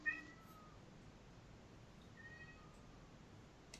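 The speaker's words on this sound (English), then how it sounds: "That's a really loud cat" A cat meows outside a door, faint and distant, two or three short thin calls over quiet room hiss.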